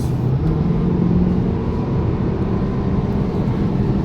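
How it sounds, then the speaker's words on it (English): Steady low rumble of winter tires on the motorway with a soft rush of wind from the wing mirrors, heard from inside a moving 2019 Porsche Macan, constant and unbroken. "The sound from the car is like from the tires, from the wing mirrors"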